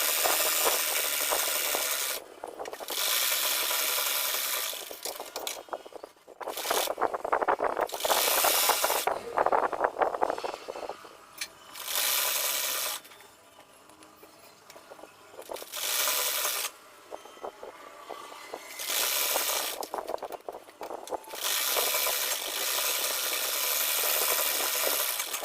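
A sewing machine stitches a seam on a kurti in repeated bursts of several seconds each, a loud close whirring broken by short pauses.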